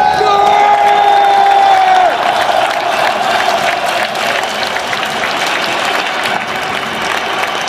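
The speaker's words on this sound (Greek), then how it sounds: "ας χειροκροτήσουμε τους πρωταθλητές" A huge stadium crowd applauds and cheers AEK's championship-winning side after a 2-0 match against Levadiakos, a dense, steady roar of clapping and whistles with a sustained tone fading out early on.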